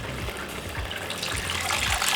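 Strained tamarind water is poured into a cooking pot, making a continuous close gushing and splashing pour with slight bubbling.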